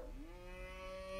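A sound toy button plays a recorded cow moo, a single drawn-out lowing call that rises slightly and holds, clear and alone.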